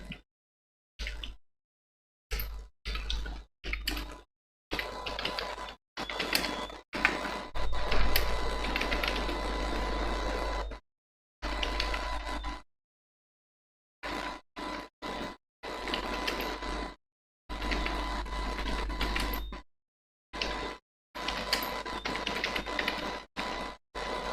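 Someone types an address on a computer keyboard, producing bursts of quiet, rapid key clicks separated by short stretches of silence.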